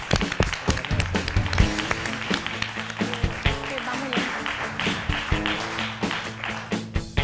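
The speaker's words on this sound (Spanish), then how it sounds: "vamos a dar un fuertísimo aplauso a Tonia Martínez" Studio audience on a Spanish evening talk show applauding for a guest, dense rapid clapping with sharp taps, steady and fairly close, continuing over a host speaking.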